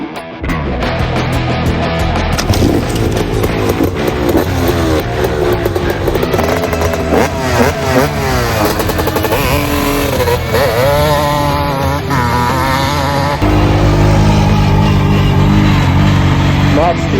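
A 250 dirt bike rips around a track cut through a corn field, its engine revving hard and continuously up close, pitch rising and falling with throttle, while a rider talks over the noise.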